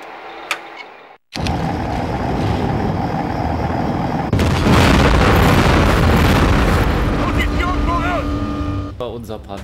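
A tank explodes in Conflict: Desert Storm, a loud sustained blast with rumbling engine and battle noise that grows heavier midway and continues for several seconds, with game voices talking over it.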